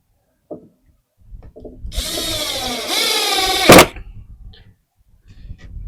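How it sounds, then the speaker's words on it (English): A power drill drives screws during the build of a solar shed, giving one loud whirring burst of under two seconds that rises in pitch near the end, with a few soft knocks before and after. "I'm only putting 2 screws in each of these because I'm not going to be moving this around."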